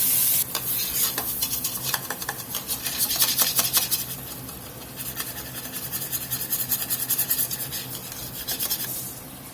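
Butter and onion sauté in a pot with a close, crackling sizzle broken by bursts of scraping and stirring strokes, busy at first, easing midway, then picking up again.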